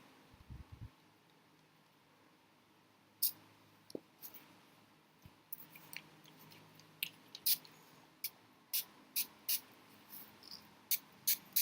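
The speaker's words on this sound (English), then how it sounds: "let's just start spritzing some" Water spritzed from a spray bottle onto a layout with shimmer products, heard as a run of short sharp hissing bursts, fairly regular and growing more frequent, close by with no talking.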